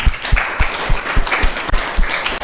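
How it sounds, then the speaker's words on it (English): At an ISKCON temple Sunday feast, a small gathering claps for a youth presenter. The claps are close and fairly loud, with individual hand strikes standing out in a quick, uneven rhythm. "let's give a round of applause for Subhangam"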